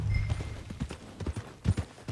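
A horse in Red Dead Online walks along, its hooves clip-clopping in a steady, uneven rhythm up close, a run of distinct thuds over about two seconds.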